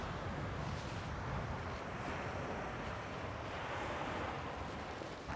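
Surf washing onto the beach at Cirali on Turkey's coast near ancient Olympos, with mountains dropping into the sea; a steady, close wash of waves mixed with wind noise fills the whole stretch, with no talking.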